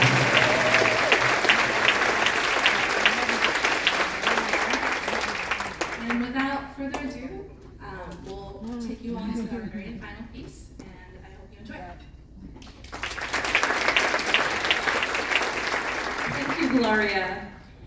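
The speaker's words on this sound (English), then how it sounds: "Can we please give a round of applause?" Concert audience applauding loudly at a Chinese zheng music ensemble performance, dense clapping at first, thinning under a speaking voice midway, then swelling again near the end.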